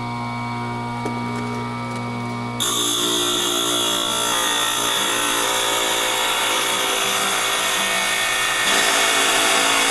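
A power saw whines continuously as it trims a large piece of lemon quartz, the loud steady grinding stepping up in intensity partway through and holding at a high pitch.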